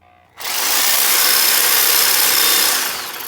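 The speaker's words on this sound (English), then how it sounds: "we just made a quick cut with the Sawzall" A Sawzall reciprocating saw cuts through a part of a 1986 Honda XL250R motorcycle during teardown, starting abruptly as a loud, harsh, steady buzzing rasp close by and holding for nearly three seconds before easing off.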